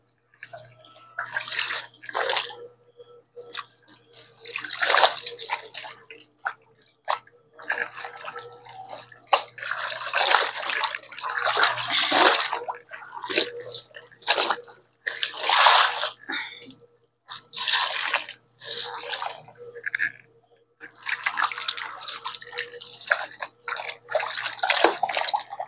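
Water runs and splashes in bursts during hand-washing of laundry at home, with sloshing and wringing sounds coming close by in irregular waves over a faint steady hum.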